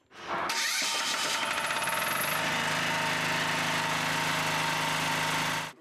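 A portable generator in a mobile tyre repair and welding workshop vehicle starts up and runs steadily with a loud, rattling, vibrating drone that holds constant until it cuts off.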